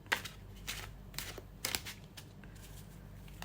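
A deck of tarot cards is shuffled by hand close to the microphone, with soft riffling and sliding bursts at irregular intervals in a quiet room.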